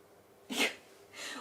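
A single sharp sneeze from a dog, close by, followed by a softer snort of breath in an otherwise quiet room.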